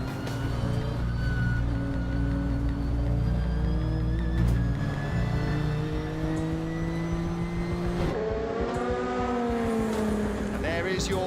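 Racing car engines roar continuously with shifting pitch as cars pass and change gear during the Spa 24 Hours endurance race, loud and close throughout.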